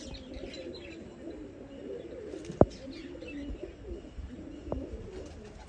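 Pigeons coo steadily at a loft, a low continuous murmur of several birds with occasional chirps, plus two sharp knocks.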